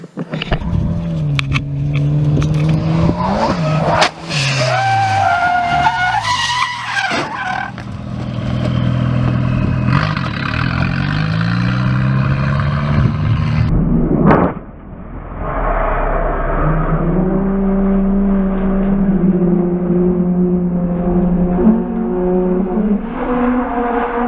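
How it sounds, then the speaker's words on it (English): A Volvo drift car comes into a corner far too fast and slams hard into a wall: loud engine roar and tyre noise fill the run, with a sharp impact partway through before the engine carries on near and loud. "He came way too hot on that entry and smacked the wall pretty hard."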